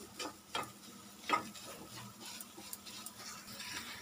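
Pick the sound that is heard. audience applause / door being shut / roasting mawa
roasting mawa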